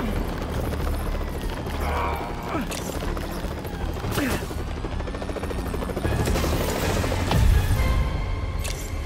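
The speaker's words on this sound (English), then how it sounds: "Chopper!" Helicopter in the Marvel's Spider-Man game, a loud continuous rotor chop and turbine roar that holds throughout, with scattered crashes and thumps of action mixed in.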